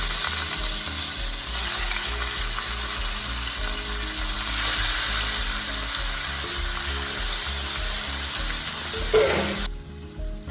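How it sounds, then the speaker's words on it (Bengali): Chicken thigh pieces fry in hot white oil in a kadai, giving a loud, continuous close-up sizzle that cuts off abruptly just before the end. "এবার আমি থাইয়ের পিসগুলো দিয়ে দেবো"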